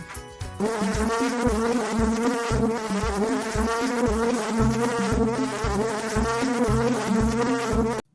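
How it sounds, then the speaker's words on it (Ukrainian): A bumblebee buzzing loudly and close up, a continuous droning hum with a slightly pulsing rhythm that holds for about eight seconds before cutting off, with no voices. "це джміль"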